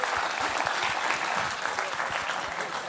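A studio audience at the Dr. Subhash Chandra talk show claps in dense, steady applause that stays loud for the whole stretch with no talking over it.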